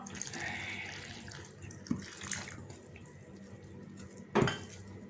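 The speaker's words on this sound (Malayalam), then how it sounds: "ആവശ്യത്തിന് വെള്ളം ഒഴിച്ചിട്ട് നന്നായിട്ട് കുഴച്ച് വെക്കാം" Water is poured into flour for kneading dough in a home kitchen, a soft trickling splash with a couple of brief bowl clinks, fairly close and moderately quiet.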